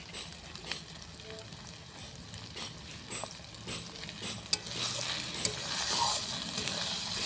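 Masala sizzling and being stirred in a pan for Bengali chicken curry, a steady close fry with scraping strokes of a spoon, growing louder and brighter toward the end.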